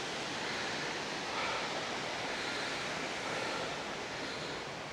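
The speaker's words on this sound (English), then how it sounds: "There's the river at the top of the falls." Steady, dense rush of a river flowing below a waterfall in Scotland, a continuous broadband roar heard outdoors, moderately loud and unbroken, with no voices present.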